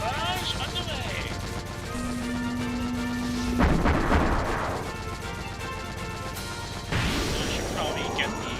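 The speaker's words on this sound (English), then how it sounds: "Barrage underway." Artillery barrage in the video game Super Holo Wars, with heavy booming impacts and crashing blasts breaking over a steady background of game music and noise, two strong hits standing out mid-clip.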